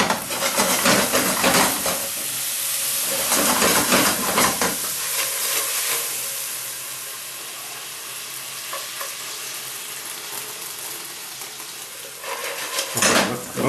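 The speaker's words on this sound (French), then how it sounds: "Notre cognac, il a flambé" Cognac flambéing in a pan while crayfish bisque cooks: a loud, close roar of sizzling and hissing with bursts of stirring and pan scraping that soften in the middle, then swell again at the end.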